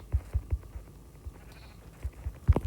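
Minecraft sheep give short, repeated bleats as several quick, fairly close bursts, clustered at the start and again near the end, over a quiet game background.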